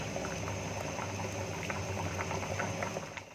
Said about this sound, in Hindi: यहाँ पे मेरी इमली और गुड़ भिगा हुआ है तो वो डाल दूँगी और खौला लूँगी